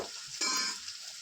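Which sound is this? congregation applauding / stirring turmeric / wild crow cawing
stirring turmeric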